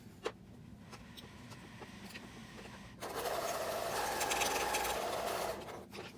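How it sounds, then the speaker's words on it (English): A home sewing machine stitches the sides of a pleated fabric face mask, running in a steady close whirring hum for a few seconds after quieter handling sounds, then stopping. "Now I'll just stitch the sides up."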